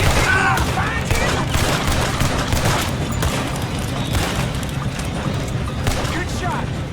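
Heavy gunfire crackles almost without pause in a Red Dead Redemption 2 shootout at Clemens Cove, a dense fusillade of rifle and pistol shots mixed with booms, while voices shout over it throughout.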